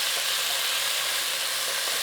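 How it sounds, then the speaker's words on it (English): Chopped tomatoes sizzling in a pan while cooking aloo gobi, a steady bright hiss of frying close by, alone with no talk. "So what we're doing now is cooking the tomatoes till they go a little bit mushy"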